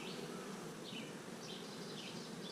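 Honey bees buzz as a dense, continuous swarm hum around an open hive during an inspection, a close, steady drone with no voices.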